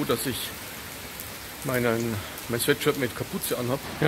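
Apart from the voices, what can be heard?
heavy rain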